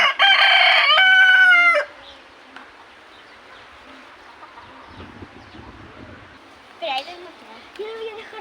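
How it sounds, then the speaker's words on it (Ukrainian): A rooster crows loudly up close at a zoo in Guadalajara, Spain, followed by softer clucking and buzzing background noise with occasional bird calls. "І тут такі кури, як у нас, і півні, звичайні."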